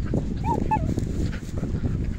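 Dogs yip and whimper close by beside a river, with short high yelps over steady rumbling background noise outdoors.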